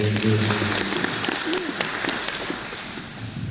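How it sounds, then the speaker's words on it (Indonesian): An audience claps during a speech, a steady, fairly loud patter of many hands, with a speaking voice heard briefly at the start. "Tepuk tangan dong."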